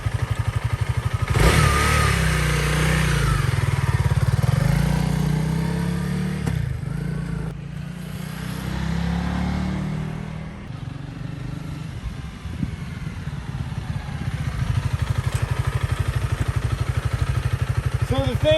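A 2021 Honda CRF300L Rally motorcycle engine hums steadily at low revs while shifting from neutral into first, a smooth throbbing drone with faint clatter and wind, heard under a rider's talk.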